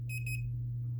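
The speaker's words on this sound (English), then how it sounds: "When my probes have direct contact, they beep. My multimeter beeps." A multimeter gives a short, clear electronic continuity beep as its probes touch on a graphics card board, a brief pulsing tone that stops quickly over a steady low hum.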